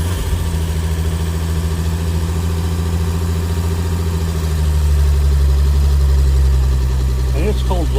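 An old restored car engine from a 1920s to 1950s collection idles with a loud, steady low rumble that deepens and strengthens midway, with people talking nearby.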